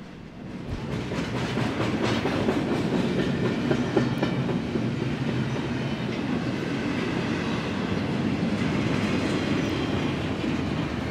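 A westbound BNSF double-stack freight train passes close by trackside at Java East, Montana, a steady loud rumble with rhythmic wheel clatter that lasts throughout.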